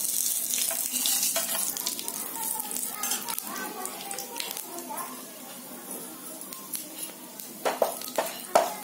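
Garam masala tossed into hot oil for dum aloo sizzles and crackles steadily in a pan, with clinks of utensils and someone speaking over it.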